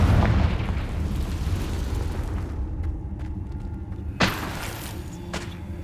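A Confringo fire spell explodes in Hogwarts Legacy, a deep booming blast with a rumbling tail, then a sharp burst a few seconds later, all over ongoing game ambience.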